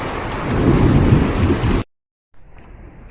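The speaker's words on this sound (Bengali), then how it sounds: "এখন আবার বৃষ্টি শুরু হয়েছে দেখেন আবার" Heavy rain after a storm pours down in a loud, dense roar, then cuts off abruptly to silence before a fainter wash of rain returns.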